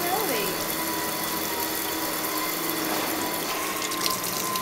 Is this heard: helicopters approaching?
no